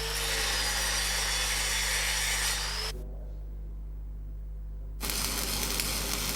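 An angle grinder cleaning a weld bead in stick electrode welding, a loud steady grinding whine that stops for about two seconds, then resumes.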